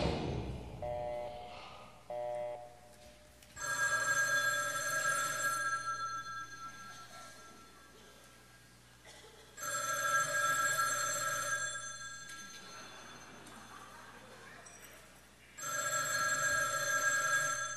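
An electronic telephone bell rings in long repeated bursts separated by pauses, over a low steady hum in a live performance setting.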